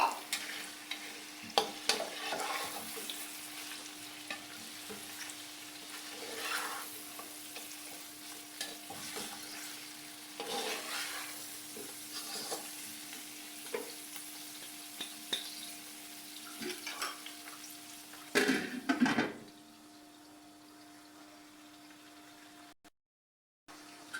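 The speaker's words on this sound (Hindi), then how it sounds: "ये गोश्त 2 मिनट के लिए भून लेंगे।" Meat for karela gosht fries in a pan, with a continuous sizzle and frequent scraping, clattering stirs that grow louder near the end before the sound cuts off briefly.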